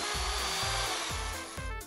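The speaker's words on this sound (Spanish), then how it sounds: "Necesito tu taladro." A power drill whirs in the Poppy Playtime Chapter 3 video game, loud and close, with a sustained buzzing whine pulsing in about four rhythmic bursts and no talk.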